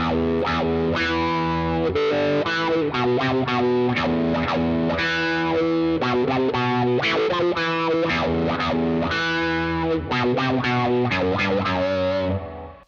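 A distorted electric guitar played through a wah pedal plays a sustained, bending riff with a vocal-like filtered tone, loud and continuous for several bars.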